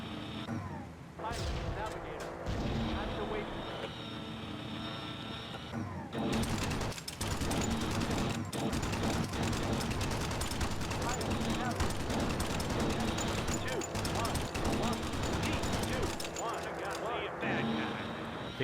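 Flak bursts thunder through a B-17 bomber combat game, dense rumbling explosions layered over continuous engine drone and in-game music, loud and sustained with talk nearby.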